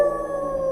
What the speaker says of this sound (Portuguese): os uivos lá fora não lhe davam paz